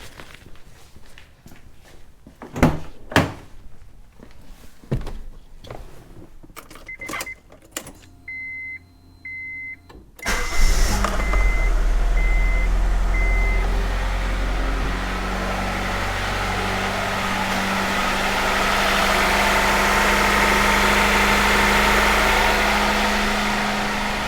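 A Honda/Acura B-series engine fresh from an ignition distributor rebuild cranks and catches abruptly, then settles into a loud, steady idle after a few scattered footsteps, clicks and brief electronic beeps.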